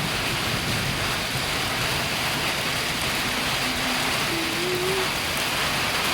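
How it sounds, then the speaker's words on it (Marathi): Village rain falls steadily into a drum of water, a dense even patter and splash of drops that runs without pause, with a faint tonal hum rising near the end. "ड्रमात पडतोय, दिसतोय का पाऊस. पाण्यात पडतोय, कसं दिसतंय ते बघा."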